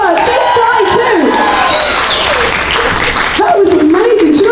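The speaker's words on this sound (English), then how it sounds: "Give her a round of applause!" An audience at an intimate acoustic concert claps and cheers loudly and close by, the applause filling the scene, with voices calling out over it.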